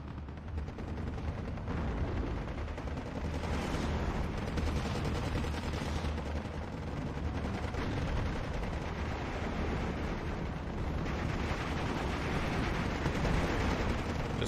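Sustained rumbling gunfire from anti-aircraft guns, including Bofors, fills a Steel Division 2 battle, with steady rapid reports and distant booms blending into a constant, fairly quiet wall of combat noise.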